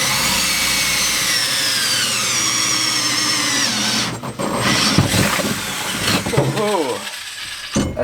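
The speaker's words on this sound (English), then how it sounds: "let's just get the hole dozer and drill a big hole in this thing." A power drill whines steadily with a hole saw grinding through metal on a Jeep CJ, then the pitch drops and the cut becomes rougher and uneven near the end.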